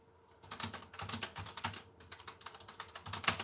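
Steady computer keyboard typing with irregular bursts of keystrokes, close and fairly clear, no voices.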